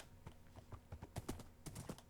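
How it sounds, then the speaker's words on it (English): Horse hooves clip-clopping in the video game Minecraft, a quick irregular run of hollow thuds, close and quiet with no speech. "see if any of them happen to be fast horses that I would actually want to saddle up and ride for a bit"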